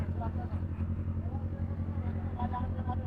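A motorcycle engine hums steadily at close range, its low drone continuous beneath people talking throughout.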